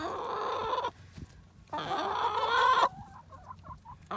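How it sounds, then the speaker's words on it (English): Chickens being fed cluck and squawk up close in two loud bursts, followed by a series of short, softer clucks. "Wave to the chickens."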